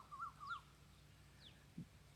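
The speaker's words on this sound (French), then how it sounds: "Donc l'oiseau que vous entendez là, c'est l'oiseau que je préfère." A bird near rice fields in rural Isan, Thailand gives faint, distant calls, a couple of wavering notes and short swooping cries over a quiet, low-humming countryside background.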